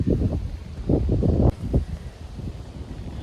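Cool wind blowing outdoors at a natural spot, heard as gusty buffeting against the microphone in uneven bursts, with faint rustling behind it.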